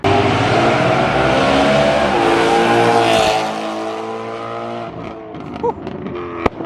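A BMW E92 M3 fitted with a very loud aftermarket exhaust roars steadily close by, its engine note dropping and settling, followed by a few sharp pops near the end.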